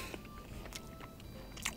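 Soft bites and chewing on mentai dim sum, a few faint crunchy snaps and mouth sounds close up over a steady background hiss, with no talking.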